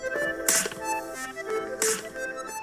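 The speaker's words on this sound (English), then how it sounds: "That was popping an inflated polka dot balloon." An inflated polka dot balloon pops in a garage, giving a sharp, loud burst, with a second similar crack about a second later.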